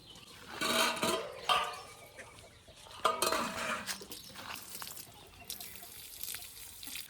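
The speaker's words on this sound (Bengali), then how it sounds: "এখন মাংসটা ধুয়ে নেব" Running water splashes and trickles as raw chicken meat is washed outdoors, with uneven bursts of pouring and rinsing at close range and no one talking.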